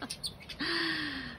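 Small birds chirp and tweet close by in a garden in the UK, a few quick calls followed by one sustained, clear whistled note.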